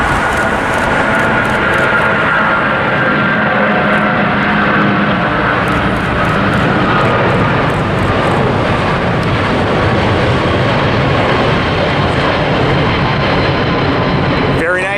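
A United airliner lifts off at LAX, its jet engines a loud, sustained broadband roar that fills the scene steadily, with a voice speaking over it.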